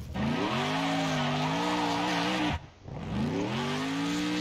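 Car in the video game Next Car Game squealing its tires through a long skid, a loud tonal whine that rises and bends, cuts off abruptly, then resumes and holds steady after a brief gap.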